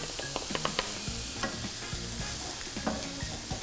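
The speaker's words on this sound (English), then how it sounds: "There's always something magical about onion and garlic sizzling on the stovetop." Onion and garlic sizzle steadily in a hot pan on the stovetop, with a spoon scraping and stirring in short bursts; quiet and close, no talking.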